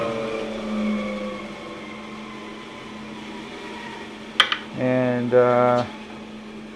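A Powermatic PM1500 15-inch bandsaw hums steadily under a voice, then a couple of sharp clicks as the brake engages, followed by a loud tonal whine and drone that cuts off abruptly.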